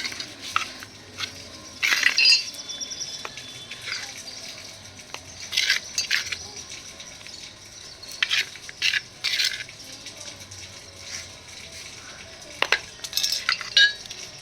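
A spoon scooping granular fertilizer and tipping it into a potted plant, repeated gritty scrapes and light clinks at close range, several uneven bursts spread across a quiet background.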